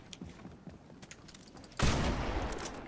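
Gunfire in Fortnite, erupting suddenly partway through as a loud, dense burst of rapid shots that follows quieter movement noises.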